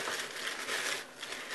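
A bag full of empty tea boxes and packets crinkles and rustles continuously, close to the microphone, a dense papery crackle with brief dips.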